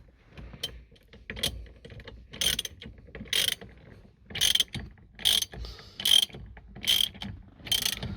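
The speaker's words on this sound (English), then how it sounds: "grab our socket and we'll torque it down." A ratchet socket torques down the steering wheel quick-release adapter on a Nissan Skyline R33 GTS-T, giving a string of about ten short rapid clicking bursts in a steady stroke rhythm, close and crisp, with no talk.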